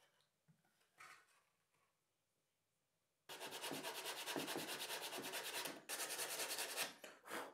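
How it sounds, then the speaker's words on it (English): Sandpaper rubs over the balsa wood top deck of a model Messerschmitt BF109 RC plane: a couple of faint strokes, a pause, then several seconds of loud, close, rapid back-and-forth sanding. "Sand this top deck to a rounded shape following on from the profiles of the formers."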